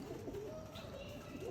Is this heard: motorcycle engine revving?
no